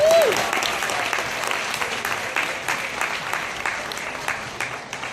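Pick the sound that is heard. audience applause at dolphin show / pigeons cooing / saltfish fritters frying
audience applause at dolphin show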